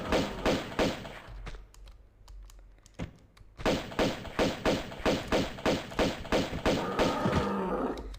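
Rapid bursts of gunfire aimed at tigers in Tomb Raider Remastered, a quick run of shots, a pause, then a steady rhythmic string of sharp blasts.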